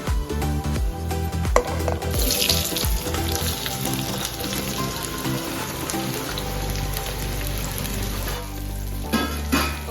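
Onions fry in hot oil with shahi jeera and cinnamon for mutton curry, a loud, continuous close sizzle and crackle with occasional spoon clinks and stirring.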